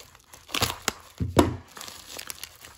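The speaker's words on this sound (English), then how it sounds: "I'm just gonna use some scissors to cut it open." Scissors snip through a trading-card grab bag package, giving a few crisp crinkling and tearing bursts of plastic close by, with quiet gaps between them.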